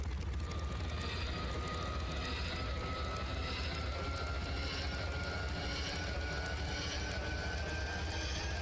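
Boeing 247D piston engines running up in Microsoft Flight Simulator 2024, a steady, loud propeller-engine drone with a faint rising whine, continuous and without voices throughout.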